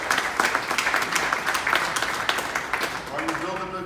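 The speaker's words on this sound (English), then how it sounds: "Let's give the Bitcoin Center a round of applause." An audience at the World Blockchain Forum in New York 2018 claps in a lively burst, sharp hand claps layered with crowd noise, and a speaker's voice begins to emerge as the applause fades at the end.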